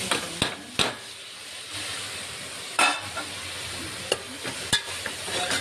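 Onions sizzle in a pan for paneer biryani while a spoon stirs them, with a few sharp scrapes and taps standing out over a steady close frying hiss.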